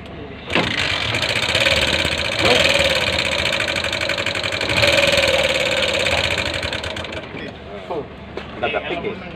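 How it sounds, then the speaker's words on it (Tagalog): An eight-year-old Bajaj CT 100 motorcycle, its engine damaged after running out of oil, starts up and runs with a loud, close, rattling knock. Someone talks over it throughout. "At paandar natin para marinig niyo yung andar"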